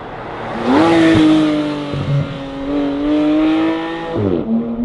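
A Porsche GT3 RS engine revs hard at the start of a test drive, rising sharply to a loud sustained high-pitched howl. It holds steady, dips briefly and climbs again, close and with no talk.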